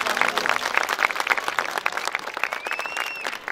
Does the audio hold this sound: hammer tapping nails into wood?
no